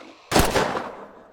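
A burst of gunfire in the tactical shooter game Thunder Tier One, loud and close, hitting sharply and rolling into a short echoing tail, with no talking.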